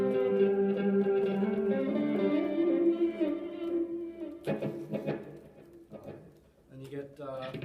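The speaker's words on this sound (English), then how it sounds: "So basically it makes it sound like you're playing, or you took a recording and then played it backwards." Electric guitar run through a reverse effect preset on a multi-effects unit, notes swelling in backwards with sustained harmonic tones, then choppier reversed phrases toward the end, fairly loud and without talk.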